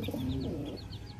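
A McArthur gamefowl breeding pair clucks in short, soft repeated calls, nearby and fairly quiet over a low background murmur.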